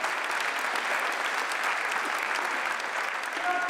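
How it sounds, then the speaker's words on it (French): A crowd at a deacon ordination claps steadily and loudly, a dense, sustained applause filling the whole stretch without pause. "et il faut les applaudir"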